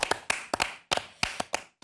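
Scattered hand claps, about eight sharp separated claps in an uneven rhythm, fairly quiet and close, from a small group rather than a full crowd, with no talk.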